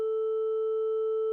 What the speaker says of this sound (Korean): 500Hz 이하 사인파를 재생해보면 아이폰 SE2는 하단 스피커에서 뭔가 가래 낀 듯한 소리가 들립니다